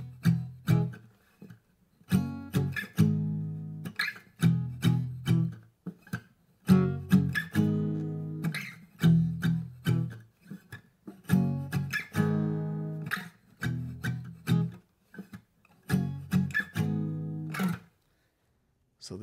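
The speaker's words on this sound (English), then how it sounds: "We're going to use the palm mute to give it that muffled sound." Acoustic-style guitar strummed with the fingers and no pick, palm-muted on the top four strings, giving a muffled, chunky rhythm of repeated short chords in a steady pattern for about eighteen seconds, with no voice.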